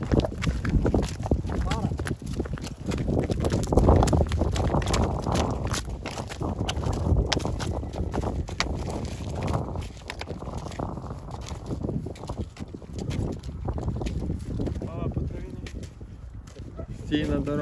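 Powerful Ardennes draft horses on a road, their hooves clip-clopping steadily at close range under nearly continuous talk, with birds faint in the background.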